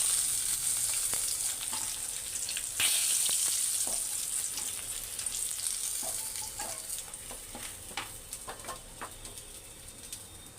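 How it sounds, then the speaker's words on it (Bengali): Fish fries in hot oil for doi maach (fish in yogurt gravy), a steady close sizzle with occasional scraping clicks and faint birdsong, no talking. "মাছটা ভাজা হয়ে গেছে, আমি গ্যাসটা একটু কমিয়ে মাছটা তুলে নেব একটা পাত্রে।"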